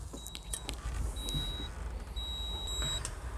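Electronic warning beeps from a car instrument cluster that keep sounding with the key switched off, on a car suspected of a short circuit in the temperature meter. Three steady, high, sustained tones sound over a low engine-like rumble.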